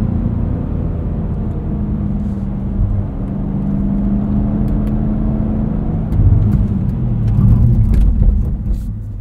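A 2024 Cadillac CT5-V Blackwing under light throttle gives a low, steady engine rumble from inside the cabin, swelling slightly in the last few seconds as the throttle opens, with road whir beneath.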